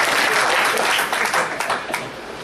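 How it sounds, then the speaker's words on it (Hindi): An audience at a comedy poetry show claps in a brief, dense burst that fades slightly toward the end, fairly loud and without talk. "कुछ ताली मेरे लिए बजाएं"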